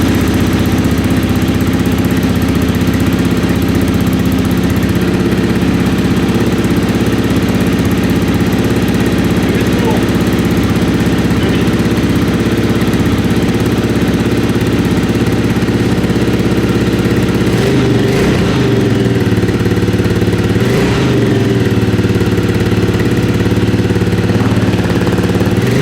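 An Aprilia Pegaso Cube 650 motorcycle engine runs at a steady, even idle with the choke applied during a restoration, loud and continuous throughout, with a couple of brief throttle changes late on.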